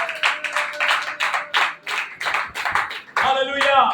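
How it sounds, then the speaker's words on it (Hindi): A church congregation claps together during a sermon, a dense burst of clapping breaking out near the end after a preacher's raised voice. "ताली बजाकर परमेश्वर का धन्यवाद करें।"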